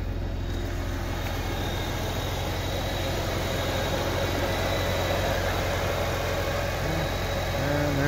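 A supercharged BMW E46 M3 with an S54B32 straight-six runs at a steady idle, holding a constant low hum and drone close by for the whole stretch with no talking.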